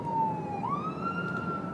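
A siren wails steadily in the distance, its pitch dipping then rising, over a low rumble of passing traffic.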